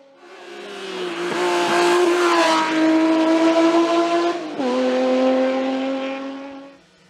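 BMW M3 E36 race car climbing the Chamrousse hill climb, its engine rising loudly through the gears with a clear upshift midway, passing fairly close and then fading as it moves away.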